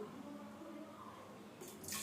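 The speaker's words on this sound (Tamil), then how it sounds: "தேவையான அளவு தண்ணி ஊற்றி கீரையை வேக விடணும்" Water is poured over red ponnanganni greens to cook them for a kuzhambu, a steady close splashing trickle that swells louder near the end.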